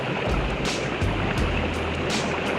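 Air bubbles churn through the water of a homemade hay bale hot tub heated by a barbecue, a steady dense rushing fizz with low gurgling pulses, close and continuous for the whole stretch.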